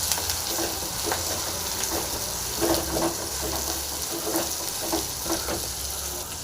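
Onions with coriander and curry leaves fry in a pan for a Tamil greens kadaiyal, giving a steady, close sizzle with occasional stirring scrapes.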